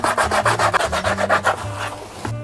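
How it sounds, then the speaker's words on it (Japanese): Rhythmic back-and-forth rasping of sandpaper on a leather heel piece for a bespoke shoe, about a dozen quick strokes close by, then a pause. "この今作った鉢巻きを接着面やすります。"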